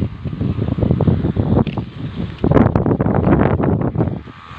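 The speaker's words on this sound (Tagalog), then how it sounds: "Ang lakas ng hangin dito." Strong wind gusting across open rice farmland in the province: loud, close, continuous buffeting that rises and falls in surges for several seconds.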